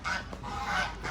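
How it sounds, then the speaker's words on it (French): Geese honk faintly in a yard in Fort-Dauphin, Madagascar, where hens also roam, giving a couple of low nasal calls in a brief, quiet stretch. "Il y a des oies, des poules."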